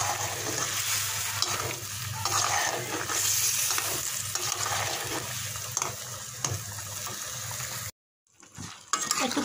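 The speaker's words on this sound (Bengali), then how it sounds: "একটু নেড়ে চেড়ে ভালোভাবে মিশিয়ে নামিয়ে নেব।" A spoon stirs homestyle chicken curry with garam masala in a pot, scraping and sizzling in a continuous, fairly close rhythm, then stops abruptly before a few faint clinks near the end.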